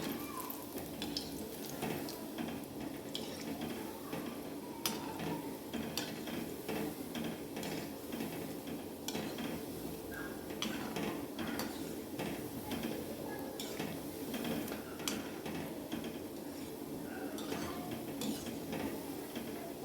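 Gulab jamun frying in oil in a pan, gently stirred with a utensil, giving faint, close scrapes and light clicks against the pan over a quiet, continuous low sizzle.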